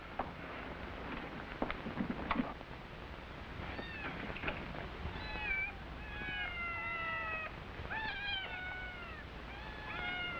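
Several cats meow repeatedly over a quiet indoor background in an old 1950s TV drama, with long drawn-out cries, some overlapping, and no talk.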